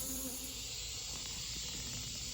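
Honey bees hum around an opened hive during colony work on a flea-market hive, a steady, even drone of many wings that stays faint throughout with no voices.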